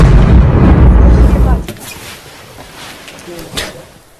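A heavy explosion goes off behind a reporter doing a live field report in Kyiv, a loud, deep, rumbling boom lasting about a second and a half before dropping away to a quieter background with faint scattered noises.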